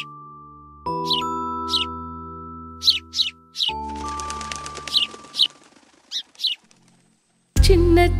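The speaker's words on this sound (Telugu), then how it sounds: "కాసేపు తర్వాత ఒక అందమైన చిలక అక్కడికి వచ్చింది" A cartoon parrot in a Telugu kids' animation chirps in short, bright bursts over soft chime-like tones, with several quick calls spaced apart and a loud musical ending.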